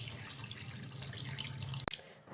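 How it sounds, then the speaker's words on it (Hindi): Fish being washed under a kitchen tap, with running water splashing and dripping steadily for about two seconds, then a sharp knock followed by quieter trickling. "मैंने ये अच्छे से फ़िश को वॉश कर लिया"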